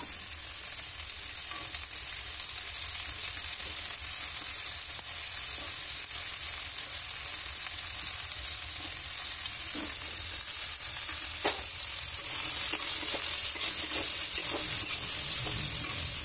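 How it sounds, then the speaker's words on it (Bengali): Carrots, beans and capsicum sizzle in ghee in a pan for fried rice, a loud, constant close crackle with occasional stirring clinks and scrapes throughout. "ঘি দেওয়ার পর কেটে রাখা গাজর, বিনস, ক্যাপসিকাম এইগুলো আমরা সব কিছু ভেজে আনবো।"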